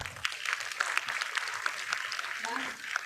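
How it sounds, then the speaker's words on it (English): Audience applause at a convocation ceremony, a crisp run of clapping from a seated crowd, moderately loud and steady, with a voice speaking over part of it. "Can we have another round of applause for ma'am?"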